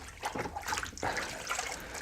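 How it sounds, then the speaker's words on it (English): A K&N air filter from a Honda CBR 600 F4i motorcycle is rinsed in a small tub of water, giving close sloshing and trickling splashes in uneven bursts with no talk. "I'm just going to rinse it off in this little tub of water"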